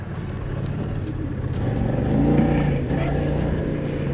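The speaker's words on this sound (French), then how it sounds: "à peine vous mettez un coup de gaz que vous montez direct dans les tours" A Kymco CV3 three-wheeled scooter engine responds to a twist of the throttle, its hum climbing quickly in revs to a loud peak midway and then easing back to a steady drone.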